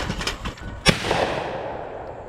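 A shotgun fires at a trap clay target on a shooting range, one loud close blast with a rolling echo that fades out, with no voices.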